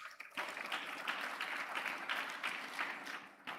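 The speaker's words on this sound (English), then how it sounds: "Please let's give him a round of applause." At a business school graduation, a crowd claps for the academic director taking the stage, producing a soft, continuous patter of many hands that holds steady for several seconds.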